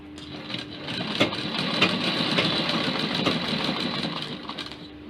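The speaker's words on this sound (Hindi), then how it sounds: "अब ये कोनर तरीके से हम सिलते चले जाएंगे।" A sewing machine stitches a lehenga with a continuous whirring mechanical drone that swells and eases slightly, heard up close with no talking.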